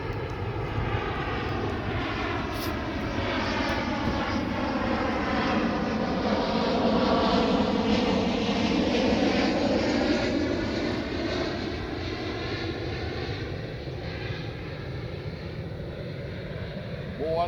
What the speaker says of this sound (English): Another jet.